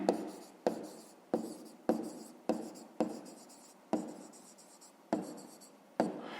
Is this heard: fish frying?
no